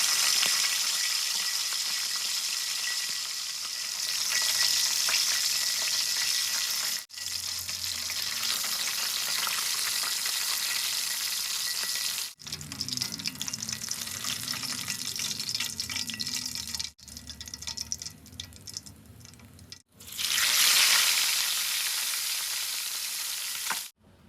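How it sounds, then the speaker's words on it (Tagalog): Chicken pieces deep-frying in hot oil until golden brown, a loud steady crackling sizzle running throughout with a few brief cuts and shifts in intensity, no talking. "Prinito ko lang lahat hanggang sa mga golden brown."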